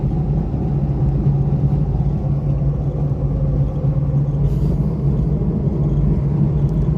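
A car with a noisy, worn wheel hub drives along, giving a steady low rumble and droning hum that holds at one level throughout, with no voices.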